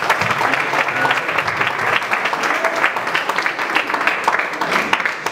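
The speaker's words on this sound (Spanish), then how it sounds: "Pido un aplauso primero que nada para ellos." School audience applauding at a farewell ceremony for departing emissaries: loud, lively clapping from many hands with distinct individual claps audible in the mix, continuing throughout without talk.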